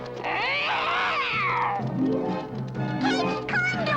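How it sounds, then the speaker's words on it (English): Cartoon cat yowling and meowing at Smurfs, a long loud drawn-out caterwaul followed by shorter meows, close and dominant, with music under it. "Naughty, naughty kitty. Leave the nice little Smurfs alone."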